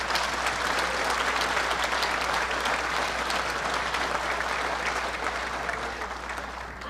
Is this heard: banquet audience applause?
yes